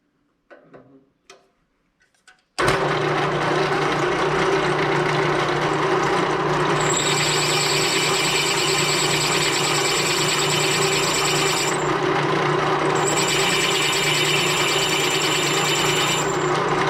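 After a few faint knocks, a drill starts abruptly and runs continuously at a loud, steady whine, drilling a shallow hole about 3/8 inch deep, its pitch shifting slightly partway through.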